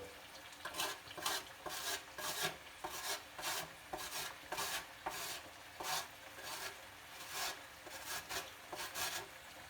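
Garlic is rubbed against a kitchen grater in quick, even back-and-forth rasping strokes, about a dozen scrapes, quiet and close.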